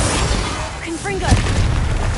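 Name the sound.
Confringo blast spell explosion from video game Hogwarts Legacy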